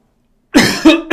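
Three quick, harsh coughs close to the microphone after a moment of silence, loud and abrupt.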